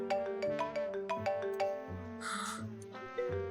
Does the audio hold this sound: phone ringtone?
yes